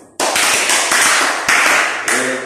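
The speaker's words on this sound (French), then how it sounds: "Applaudissez pour vous." Audience applause at a talk on inner peace and self-confidence: a loud, close wash of clapping that starts abruptly and surges again in several waves.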